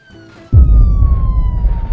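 An ambulance siren wails in the BeamNG driving game, its falling tone cut by a sudden loud, rumbling crash that keeps going after it.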